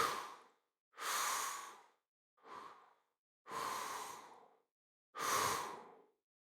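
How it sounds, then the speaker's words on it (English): Five slow, heavy breaths, each a long airy exhale like a sigh, separated by clean silences, close and intimate with nothing else audible. "Breaths."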